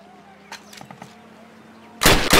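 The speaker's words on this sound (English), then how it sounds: "Fire 3 more rounds at your target." A rifle shot fires at a target on the Call of Duty boot camp firing range, with faint clicks and handling noise before one sudden loud burst at the end.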